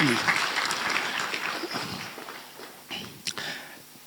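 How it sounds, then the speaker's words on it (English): Audience applause at a presidential inauguration ceremony in Ghana, a broad wash of clapping that fades over about four seconds, with a few louder claps and stray crowd noise near the end. "Please give him a round of applause."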